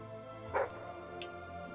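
A dog in the video game Fable III lets out one sharp, close bark over a quiet droning background, followed by a fainter short yip a moment later.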